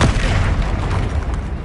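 A Confringo spell goes off in a video game, sounding as a single heavy, booming explosion that starts abruptly and rumbles on loudly for under two seconds before easing slightly.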